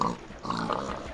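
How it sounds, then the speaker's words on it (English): Pigs oinking in the Minecraft video game, a steady run of overlapping game grunts at moderate level with no talk over them. "Who's spawning pigs?"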